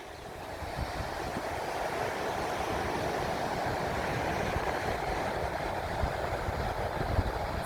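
Steady broadband wash of sea waves on a sandy beach, a continuous even roar with no distinct breaks, close and moderately loud, with no voices.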